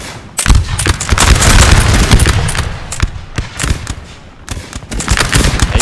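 Dense musket and artillery gunfire from a Napoleon Total War multiplayer battle between Ottoman and French armies, a loud, continuous crackle of overlapping volleys and booms that swells and dips without pause.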